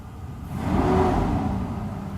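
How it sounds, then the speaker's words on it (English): A Mercedes S600 W140 V12 with freshly overhauled throttle bodies revs briefly after a light tap on the pedal, the engine note swelling quickly from idle, peaking, then easing back, close and clear with no talking. "I just like barely pressed on it, and it just already revved up to 2000 RPM almost"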